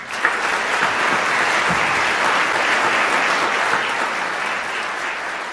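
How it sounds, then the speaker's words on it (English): An audience at a National Honor Society induction ceremony applauds, a dense, continuous wash of clapping from many hands that holds steady and loud, then eases slightly toward the end. "So I think that in itself deserves another round of applause."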